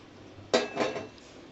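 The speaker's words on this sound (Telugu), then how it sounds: "ఫస్ట్ స్టవ్ ఆన్ చేసుకొని ఒక వెజల్ పెట్టుకోండి" A metal cooking vessel set down on a kitchen stove gives two quick, close clanks a fraction of a second apart, then quiet.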